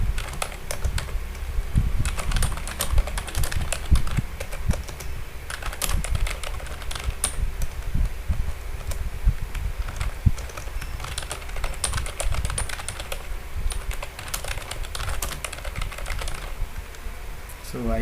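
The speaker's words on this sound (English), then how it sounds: "let's simply type in some things" Someone types on a computer keyboard in a quiet room, a steady run of close, light key clicks that carries on without break from start to finish.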